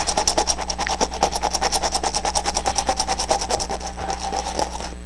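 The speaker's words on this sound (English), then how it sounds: "So I hit that with a little bit of the brown Scotch-Brite and the magic burnishing cloth." Brown Scotch-Brite pad rubbing a turned wooden quaiche bowl spinning on a lathe, giving a steady rapid rhythmic rasping scrub that pulses evenly throughout over a low motor hum.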